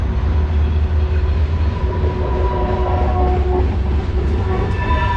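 A train rumbles past steadily with a deep continuous roar and faint metallic squeals, loud and close for the whole stretch, no voices, outdoors in Pittsburgh, Pennsylvania.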